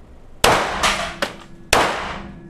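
A handgun is fired at a shooting range in the Czech Republic, three sharp loud reports with ringing decay and a fainter metallic clink between them, no talking.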